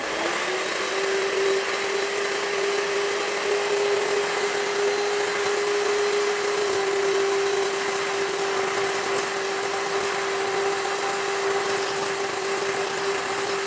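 Electric mixer whipping chilled cream on high, a loud, steady, unbroken whine holding one pitch throughout with no voices.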